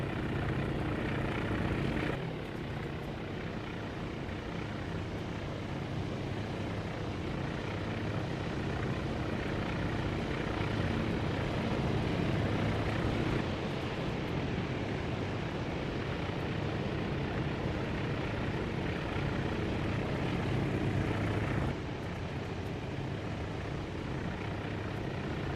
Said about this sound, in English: A lot of airplanes to land.